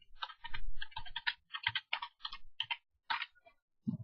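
Keys tapped on a computer keyboard while entering an icon name, a quick run of separate clicks in irregular bursts with short pauses, close and fairly quiet, with no talk.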